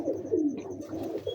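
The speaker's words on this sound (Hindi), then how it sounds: "मैं आपको ओरिजिनल कमगर कबूतर दिखाऊंगा।" Kamgar pigeons give soft, low, rolling coos close by, repeated a few times over a quiet background, with no speech.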